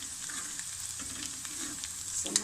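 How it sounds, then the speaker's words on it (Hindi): Cumin seeds frying in hot oil with green chilies and ginger for a saag, a steady soft sizzle and crackle close by, with a couple of small sharp pops near the end and no talking. "अदरक और सब्ज़ मिर्चें हमारी फ्राई होगी तो इसके बाद हम डाल लेते हैं इसमें ज़ीरा"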